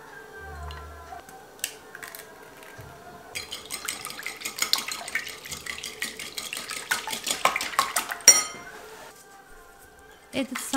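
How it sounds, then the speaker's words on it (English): Sauce ingredients are mixed in a bowl with a utensil: soft, irregular scraping and clinking taps, close but fairly quiet, with a few sharper knocks against the bowl. "First, I mixed my sauce ingredients in a bowl."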